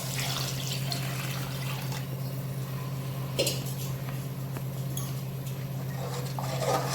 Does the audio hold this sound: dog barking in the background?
no